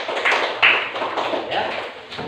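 Students in a classroom clap together, a dense, steady patter of hand claps lasting a couple of seconds, fairly close and moderately loud with no talking.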